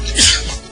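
A single short, sharp sneeze bursts out close by, loud and brief.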